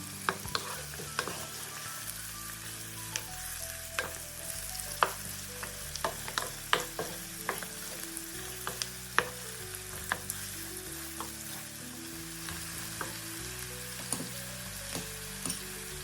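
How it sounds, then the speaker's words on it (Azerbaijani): Chicken pieces frying together with onions in a pan, a steady close sizzle with frequent spoon scrapes and taps as the mixture is stirred, no speech. "Soğanla birlikdə ətləri də qovururam"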